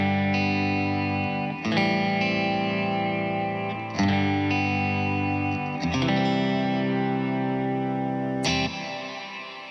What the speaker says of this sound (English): let's add the reverb to it.